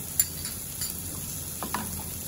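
Ingredients such as greens, salt and crushed pepper being stirred together in a pan while cooking, with a low steady sizzle and a few soft utensil scrapes and taps, close and quiet, no talking.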